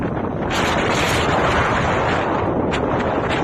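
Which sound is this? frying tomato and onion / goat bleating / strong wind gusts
strong wind gusts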